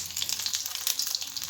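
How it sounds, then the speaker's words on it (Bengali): Bengali vegetable chops deep-frying in hot oil, street-food style, giving a dense bubbling crackle with quick popping bursts, close and moderately loud, with no voices. "তেলের মধ্যে দিয়ে দিয়েছি, দ্বিতীয়টাও ভাজা হচ্ছে"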